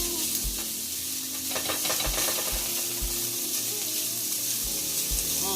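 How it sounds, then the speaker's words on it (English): Food sautéing in a pan with a pinch of dry parsley and garlic powder for crawfish and Conecuh sausage quesadillas, giving a steady close sizzle with occasional stirring scrapes throughout. "I'm going to saute this about 2-3 minutes."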